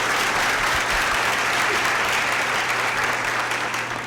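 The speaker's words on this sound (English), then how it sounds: "Yes, give them a round of applause." An audience applauds teachers at a middle school moving-up ceremony, steady dense clapping filling the hall at close range for the whole stretch.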